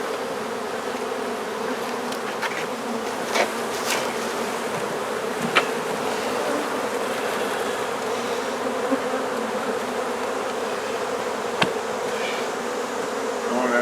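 Honey bees swarm around a hive during a humane removal in Central Florida, a dense, continuous buzzing drone close by with a few brief sharp clicks and knocks, no voices.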